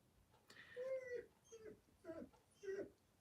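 A dog indoors gives a few short soft whimpers and yips in quick succession, fairly quiet and close.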